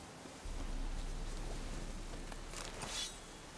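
Rain falls steadily in The Witcher 3 on PC, a soft, even hiss that starts abruptly and holds at low volume with no voices.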